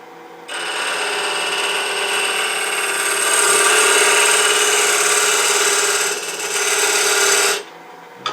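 Woodturning lathe with a rounded skew chisel cutting the inside of a wooden box, giving a steady high tonal whine with a harsh scraping hiss that starts abruptly, holds for about seven seconds with a slight dip, then stops.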